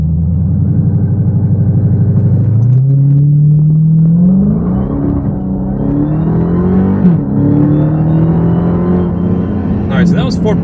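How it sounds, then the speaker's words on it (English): Dodge Charger Hellcat doing a 0 to 60 run from a second gear launch. A loud idling rumble rises into a hard rev, then the engine climbs through rising roars with a shift, heard close from inside the car. "let's go ahead and try a 0 to 60 run in this thing. We're gonna try a second gear launch"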